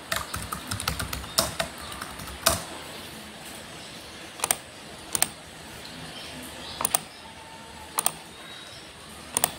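Scattered keystrokes on a computer keyboard as a village head's name is entered into a population data application, with sharp isolated clicks spaced irregularly over a faint steady room hiss and no talking.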